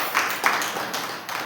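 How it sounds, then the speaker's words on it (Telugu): A church congregation clapping hands together, producing a dense wash of many overlapping claps, fairly loud and close, slightly uneven in rhythm. "నమ్మిన వారు గట్టిగా చప్పట్లు కొట్టడమ్మా."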